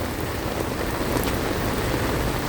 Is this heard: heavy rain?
yes